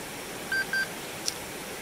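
A Minelab Gold Monster 1000 metal detector starts up with two short electronic beeps in quick succession, followed by a brief higher chirp, over faint background hiss.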